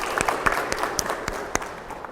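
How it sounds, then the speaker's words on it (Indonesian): A classroom of students claps for a classmate named Zafira, a brief scattered burst of separate hand claps, close and sharp, spaced unevenly over about two seconds. "tepuk tangan untuk Zafira"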